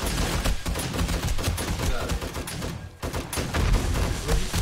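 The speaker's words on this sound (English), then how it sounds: "We're shooting down the hallway" Rapid, dense automatic gunfire rattles almost continuously in a zombie-horde shooter game, bursts packed tightly with a brief lull near the middle before the shooting resumes loud and close.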